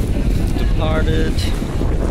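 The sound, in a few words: Auckland commuter ferry departing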